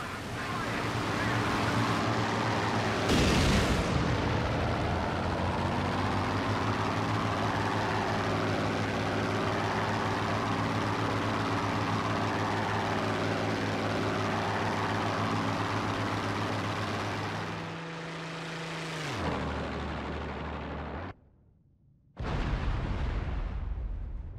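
In the flight combat game IL-2 Great Battles, a steady, loud drone of FW-190 fighter aircraft engines fills the scene, broken by a deep explosion boom early on and a brief drop near the end.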